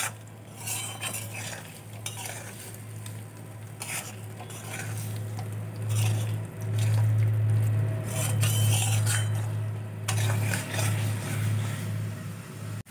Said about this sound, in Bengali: এইভাবে জল দিয়ে আবারও আমি কিছুক্ষণ কষিয়ে নেব।